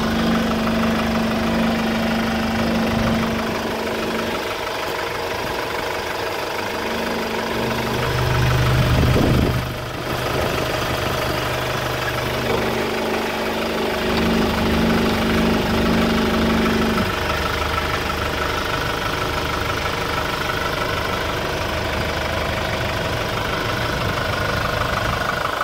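A Kia Sorento's 2.5-litre four-cylinder engine idles steadily with a low, even hum and faint mechanical knock, swelling briefly about midway before settling back to the same constant idle.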